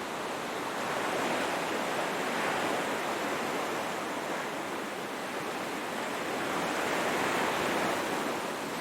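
Stormy, icy waves of the Southern Ocean around Antarctica, a dense roaring wash of surf with slow swells rising and falling, loud and continuous with no voices.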